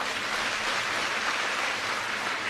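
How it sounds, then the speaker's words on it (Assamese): A large audience at a cheque distribution event in Bihali, Assam applauds the minister, a dense, steady wash of clapping that holds at full strength for the whole stretch, with no talk. "আপোনালোকে এটা ডাঙৰ হাত চাপৰি বজাই দিয়ক"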